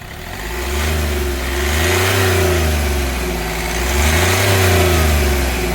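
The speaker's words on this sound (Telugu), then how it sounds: "ఇంజన్ యొక్క నాయిస్ కూడా చాలా సైలెంట్గా అయితే ఉంది ఒకసారి ఎక్సలేటరీ" A 2015 Hyundai Grand i10 Magna engine revs up and down in two long swells, loud and close, with a steady low rumble between the rises.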